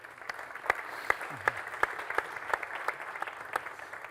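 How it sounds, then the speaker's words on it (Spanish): Scattered clapping from a small audience at a technology conference in Málaga, individual claps audible rather than a dense roar, moderately distant and steady for several seconds. "Otro aplauso para él, para Javier."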